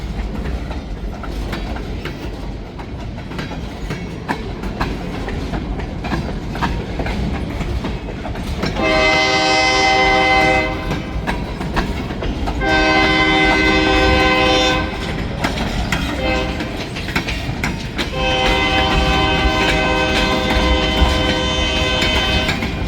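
A long freight train pulled by locomotive 502 rumbles past continuously with wheel clatter, while its horn blasts loudly three times at intervals, close and dominant throughout.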